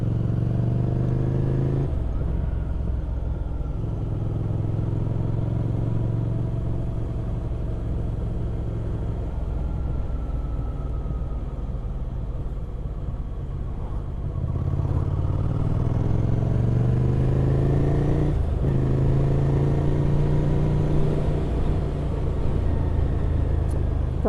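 A Yamaha MT09 motorcycle ridden at speed, its engine droning steadily and loudly with rising pitch through the gears and constant wind rumble, no voices over it.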